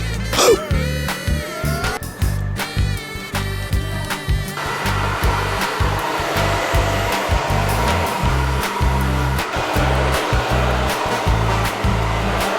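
Hair dryer blowing loudly and continuously at a barber shop, with a strong rumbling airflow and a brief whine at the start, no speech.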